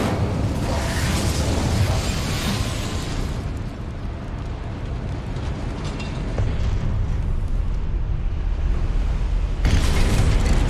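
The Incendio fire spell cast in the game Hogwarts Legacy, a loud whooshing burst of flame and rumbling blasts that swell, ease off briefly, then flare up again at the end.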